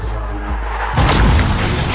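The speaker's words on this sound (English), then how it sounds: "Never look back at an explosion." Loud boom of an explosion in the trailer for the Indian war film Uri: The Surgical Strike, erupting abruptly after a quieter opening and rumbling on to the end over a dense soundtrack.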